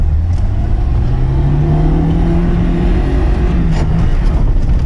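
A Lada Zhiguli engine roars loud and close inside the car while racing on a rough track, its pitch climbing under throttle, then dropping and climbing again with a gear change, accompanied by a constant heavy rumble.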